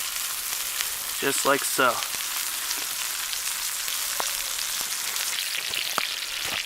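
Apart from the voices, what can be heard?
butter sizzling in a pan while searing ribeye steak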